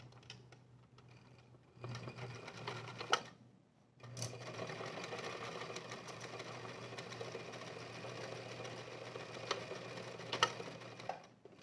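A sewing machine stitches the crotch seam of a pair of pants in a steady mechanical whir. A short pause interrupts it before it resumes, with ticking gear clatter, moderately close and without talk.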